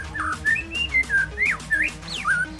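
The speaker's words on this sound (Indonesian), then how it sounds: "inilah beberapa jenis suara masteran murai batu yang wajib yang dimiliki" Recorded song of an oriental magpie-robin (murai batu) used for training, a run of clear, rising and falling whistled phrases and quick slurred notes repeating over a low steady background hum.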